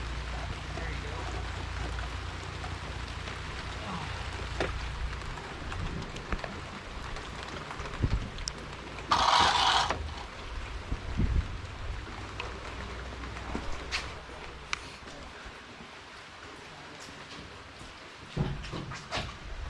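Rain falls steadily outdoors while workers swap out a gas furnace and fit a new line set, a constant soft hiss broken by scattered clanks and a brief louder burst midway.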